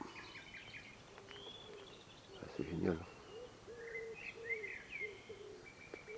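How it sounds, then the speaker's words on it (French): Birds chirp and call outdoors beside water during a fishing outing, with repeated short tweets and warbling phrases at moderate distance, while someone speaks briefly over them amid light rustling. "Écoutez ce chant des oiseaux,"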